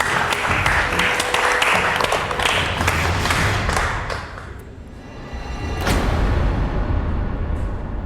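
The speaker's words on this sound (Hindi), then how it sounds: "फिर से तालियां।" A studio audience bursts into dense, loud applause that dips briefly midway before swelling again, mixed with a few thumps.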